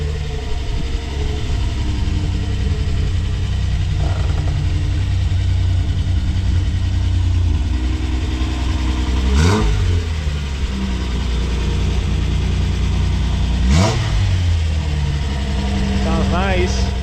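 A Datsun Z car engine idles steadily up close with a continuous mid-low drone, broken by two sharp revs that rise and fall, one near the middle and one later, plus a lighter blip earlier.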